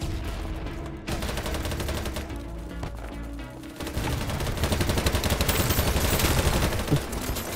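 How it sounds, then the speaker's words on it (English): Dense gunfire in BattleBit Remastered crackles from several weapons at once, with rapid automatic bursts that overlap and build louder toward the end. The shots come from both near and far. "Where am I even getting shot from?"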